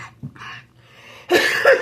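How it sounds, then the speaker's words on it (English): After a quiet stretch with faint rustles, one loud, harsh cough bursts out close to the microphone and rings briefly. "I just need one big cough"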